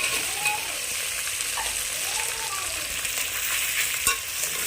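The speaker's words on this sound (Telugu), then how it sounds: "అడుగంటకుండా మనం హైలో పెట్టుకొని ఇవన్నీ ఫ్రై చేసుకుంటాం" Potato pieces fry over high heat with ginger garlic paste for vegetable pulao. A dense, constant sizzle sounds close by, broken by occasional scrapes and clunks as the mixture is stirred.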